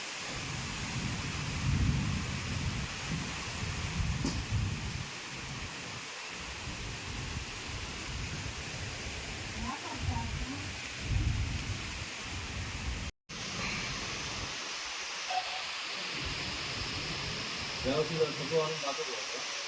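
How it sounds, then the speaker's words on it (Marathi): Rain falls steadily during a sudden storm with gusty winds in rural Konkan, a broad hiss with rumbling low gusts; a person talks intermittently over it, and it cuts out briefly partway through. "पण आता परत वाढता हा पाऊस"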